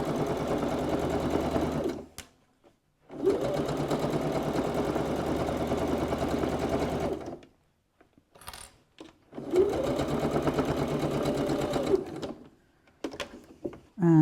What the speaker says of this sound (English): And while I'm there, I'm going to stitch the pocket in half.